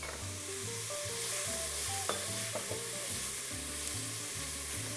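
Garlic cooking over medium heat in a pan for split pea soup, a soft continuous sizzle with a few light clicks, mostly buried under background music.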